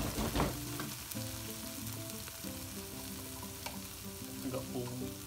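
Lamb curry being stirred in a frying pan, with a steady sizzle of frying and repeated scraping and clattering of the spoon against the pan, close and continuous.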